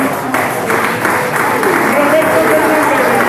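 Audience applause breaks out at an award ceremony for a homebrewing competition, a steady broadband clapping wash heard close and fairly loud, with a voice speaking over it.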